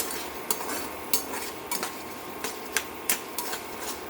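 Urad dal roasting in a pan while being stirred, with a steady low sizzle beneath sharp, irregular scraping clicks of a spoon against the pan, roughly a dozen quick taps over a few seconds.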